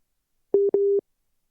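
A phone line gives a busy tone after a dropped call connection: two short, loud, steady electronic beeps in quick succession, clean and alone.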